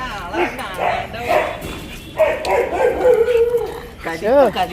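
Several dogs bark, yelp and howl together at close range in bursts, with people talking over them throughout.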